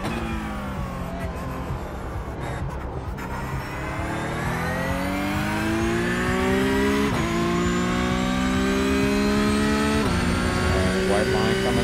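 A Porsche race car in iRacing, its engine droning loud and steady while climbing through gears with rising pitch sweeps and brief shift drops, accompanied by a voice talking throughout.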